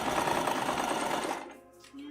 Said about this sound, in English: And trying not to sew over my damn fingernails.